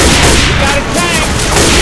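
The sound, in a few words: gunfire at a Tank in the video game Left 4 Dead 2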